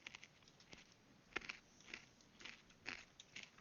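Someone eating a snack, with faint, close crunching and biting coming in irregular bursts over a quiet background, and no talking.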